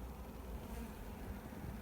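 Honey bees buzzing around a beehive on an allotment after swarm preparations, a faint continuous hum of many wings with no voices.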